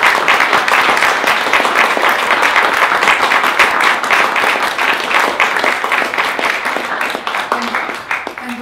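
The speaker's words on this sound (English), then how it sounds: "she deserves all of our applause." An audience at a 2013 award benefit applauds steadily and loudly, a dense wash of many hands clapping that holds for several seconds and eases slightly toward the end, with no voices heard.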